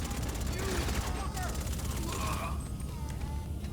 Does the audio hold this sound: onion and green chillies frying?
no